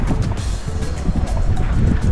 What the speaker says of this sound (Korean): 바람이 좀 자야 될 건데 계속 부네요